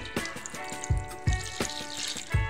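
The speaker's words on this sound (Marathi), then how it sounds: "मी यामध्ये थोडं पाणी टाकून घेणार आहे" Water poured into a bowl of mango pulp mixed with gram flour, heard as a close, steady trickle broken by several soft, splashy thumps.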